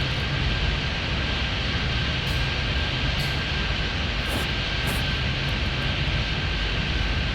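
An airliner taking off at Chicago O'Hare International Airport, a loud, steady roar of jet engines with a constant whining tone, sustained throughout with no speech.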